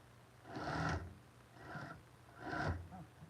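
A sewing machine stitches around a bag in three distinct bursts of whirring with short pauses between them, close but fairly quiet, with no talking over the sound.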